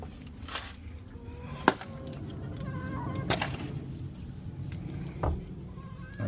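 Chickens cluck in a backyard coop beside nesting boxes, with scattered close calls over a steady low rumble and one sharp knock near the start.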